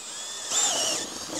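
Power drill with a bit running on a BMW E36 coupe, a steady whining motor that rises in pitch and load midway, then eases back, close up with no talk.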